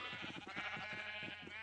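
A sheep bleating in Minecraft, a steady wavering bleat close up, loud and continuous over the short stretch, with no talk.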